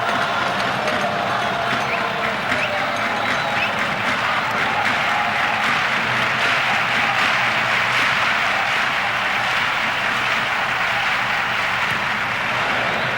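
A packed futsal arena crowd at a 1996 world championship final between Spain and Brazil roars and applauds after a sudden shot, a loud, sustained wall of cheering and clapping that fills the whole stretch without letup.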